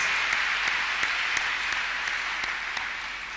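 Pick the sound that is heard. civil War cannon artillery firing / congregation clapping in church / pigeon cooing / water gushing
congregation clapping in church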